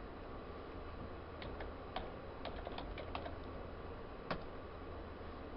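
Computer keyboard typing while entering a spreadsheet formula: a faint, irregular cluster of light key clicks over a steady hiss, with one sharper tap near the end and no talking.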